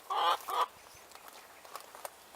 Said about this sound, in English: my chickens are coming to visit and to hear this story too